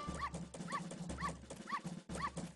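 A small dog in The Legend of Zelda: Majora's Mask gives a run of short, repeated yips and whines, about five evenly spaced high cries over a low game drone, close and fairly quiet.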